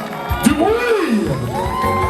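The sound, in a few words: audience applause and cheering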